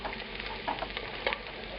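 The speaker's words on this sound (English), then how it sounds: "We want to brown the shallots in the bacon fat." Shallots sizzling in rendered bacon fat in a pan on the stove, a steady close frying hiss with small crackles and pops, no voices over it.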